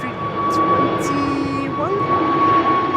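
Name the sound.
Embraer 190 and Airbus A321 jets departing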